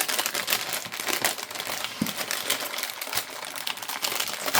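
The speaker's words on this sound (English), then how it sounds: "Oops, sorry about the crinkling." Plastic packaging crinkles continuously as it is opened, dense close crackling with a few sharper rustles throughout, no talk.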